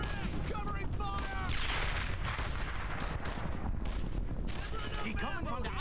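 Dense World War II gunfire in the video game Brothers in Arms: Earned in Blood, with sustained rifle and machine-gun bursts and booming blasts forming a loud, continuous battle din, with shouted voices in among the shots.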